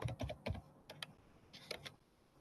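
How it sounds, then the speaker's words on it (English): Typing on a computer keyboard while entering a website address: several quick bursts of close key clicks, a pause, then another short run of taps, moderately loud with no talk. "So I'm typing google.com."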